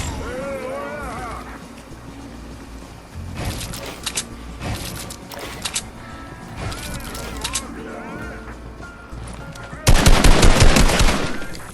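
Heavy sniper rifle gunfire in the Fortnite video game, with scattered sharp shots followed by a dense, loud burst of rapid firing near the end, mixed with a player's talk.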